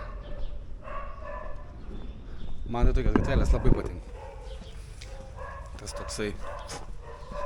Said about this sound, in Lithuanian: Čia šuo kažkur tai sloja.